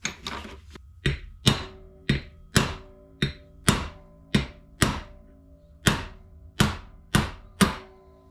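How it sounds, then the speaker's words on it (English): Around a dozen sharp metallic hammer blows ring out one by one at an uneven pace, driving an old bearing race out of a 4Runner front axle during a gear job. Nobody speaks. "if you give it a couple whacks and it doesn't want to move, then you'll have to press it"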